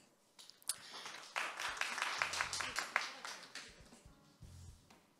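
A crowd at a CES 2022 startup pitch day breaks into applause, a few scattered claps swelling into a brief burst of clapping before it thins out, with a voice speaking around it.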